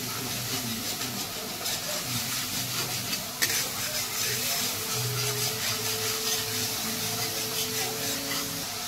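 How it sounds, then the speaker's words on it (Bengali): Spice paste with ground cumin and a splash of water is stir-fried in a pan for a prawn dish with taro leaves, giving a steady, moderate sizzle with soft scraping from stirring throughout. "আমি একটু জল দিয়ে কষে নিচ্ছি এতে মশলাটাকে"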